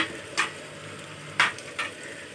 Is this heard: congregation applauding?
no